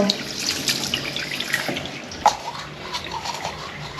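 A water tap runs in a bathroom, pouring in a steady hiss and splash with one sharper clunk midway, fairly close.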